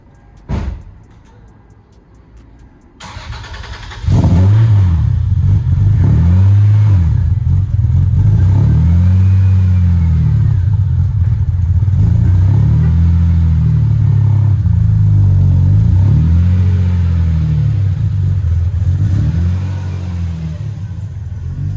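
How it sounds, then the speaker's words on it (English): A Lexus SC300 engine cold-starts through a newly finished exhaust: a quiet lead-in, then the engine catches and settles into a loud, steady rumbling idle with rhythmic swelling pulses, recorded close to the car. "you guys are gonna get a clip of the cold start"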